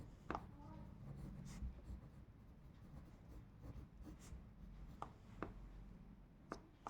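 Pen writing on paper during a Class 8 maths revision lesson, a soft continuous scratching with a few sharper strokes over quiet room noise, close and fairly faint, with no talk.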